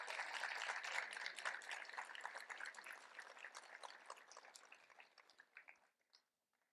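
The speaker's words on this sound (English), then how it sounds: "Let's give her a round of applause." Applause from the audience at a student leadership conference, a dense burst of clapping that gradually thins and fades out near the end, fairly faint overall.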